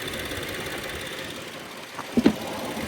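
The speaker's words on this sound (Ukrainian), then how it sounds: "Мотор працює чітко, рівненько" A 2017 Audi Q7 3.0 TFSI engine idling steadily with an even, smooth hum, heard up close, with a couple of brief knocks near the end.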